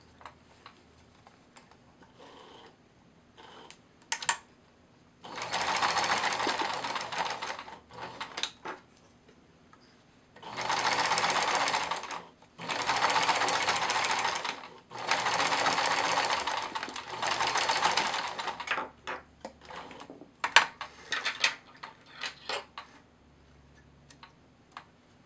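A sewing machine stitches a plush otter in four bursts of steady, rapid whirring, one longer run followed by three close together, with small clicks and handling noises between them.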